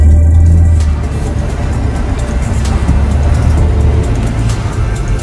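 A 2023 BMW M3 Touring pulls away from a stop on a hill, its engine a loud, steady rumble with continuous road and cabin noise that holds throughout.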